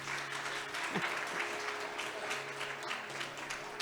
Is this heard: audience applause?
yes